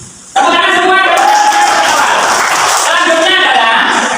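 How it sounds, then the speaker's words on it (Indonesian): Students in a classroom learning session clap together, a loud, close burst of steady applause that carries on for several seconds with voices calling out over it. "tepuk tangan semua"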